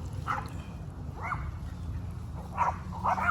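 A dog barks about four times at moderate distance outdoors, each sharp yelp standing out over a steady low background rumble.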